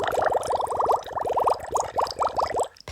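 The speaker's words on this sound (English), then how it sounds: "listen to see if I can hear any bubbles popping" Bubbles popping from a Canva audio library effect: a rapid stream of bright, liquid pops and blips in quick uneven bursts, close and clear, with no talk.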